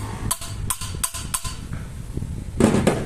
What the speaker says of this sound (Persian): بعد با چکش شیک میزنی